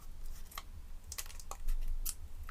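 Strong scissors cut through tough plastic at the centre of a water bottle, giving a close series of sharp, crisp snips and crackles at an uneven pace with no talking.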